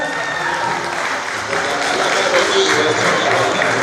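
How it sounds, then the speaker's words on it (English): Audience applause at a Yoruba Day 2018 cultural celebration in Melbourne, Australia: a steady wash of many hands clapping for the full stretch, fairly loud, with crowd noise mixed in. "Please put your hands together for Adiola Fire."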